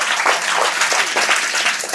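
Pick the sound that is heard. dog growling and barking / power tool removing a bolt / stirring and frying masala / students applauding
students applauding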